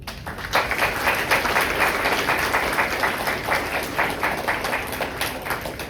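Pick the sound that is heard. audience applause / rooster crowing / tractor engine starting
audience applause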